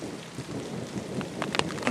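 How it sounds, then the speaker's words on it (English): Distant thunder rumbles low beneath a steady patter of rain during a spring storm in the Manitoba woods, with a few sharper drips and gusts rising near the end; no voices. "don't know if you can hear that thunder in the distance"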